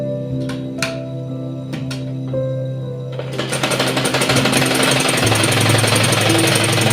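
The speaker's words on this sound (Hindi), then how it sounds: "और अब हम सिलाई लगा लेंगे।" A sewing machine stitching fabric for a baby girl's dress: after a few seconds of quiet hum with faint taps, a loud, fast, steady mechanical whirr of stitching starts and continues.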